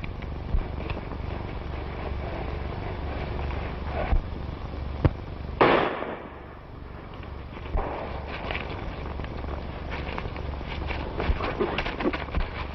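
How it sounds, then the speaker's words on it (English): A single sharp gunshot cracks out in a 1936 western, a loud broadband burst standing out from steady background rumble and faint bustle, with no talk during it. "I tell you, I heard a shot."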